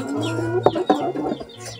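Chickens clucking nearby, a few short clucks and squawks standing out against quiet background.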